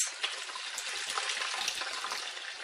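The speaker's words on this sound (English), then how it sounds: "Then I just rinse it under some water, just from the tap, just to make sure we've got rid of all of those bubbles." Tap water runs over a beauty blender sponge as it is rinsed free of soap bubbles, a soft, steady splashing stream at low volume with small irregular spatters.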